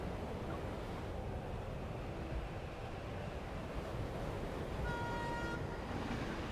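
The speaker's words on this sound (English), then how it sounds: "The train's headlights cut through the darkness. Surrounded by rushing air currents, it barrels forward." A train rushing through darkness in the game Love and Deepspace, a steady loud roar of wheels and wind with a brief horn-like tone near the end.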